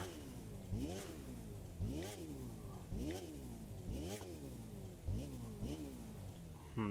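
An MV Agusta F4 RR sport motorcycle engine revs repeatedly, rising and falling in about seven regular bursts, moderately close and fairly quiet.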